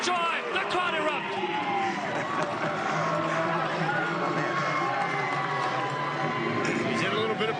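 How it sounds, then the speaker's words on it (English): A rugby crowd roars and cheers after a try is scored in a semifinal match, a dense, continuous wash of voices heard from a distance, with a commentator talking over it. "Zarnecki scores a try. The crowd erupt."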